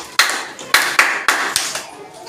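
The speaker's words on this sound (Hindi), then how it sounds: "ठीक है, ऐसे ताली बजाने की।" Children at a primary school clap their hands together in a rhythm, with sharp group claps landing about every quarter to half second in a loose beat that is close and clear, and a little talking underneath.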